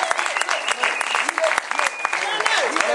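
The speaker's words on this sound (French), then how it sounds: "Vous pouvez l'applaudir." A church congregation claps in a steady patter of applause throughout, with voices and calls mixed in over the clapping.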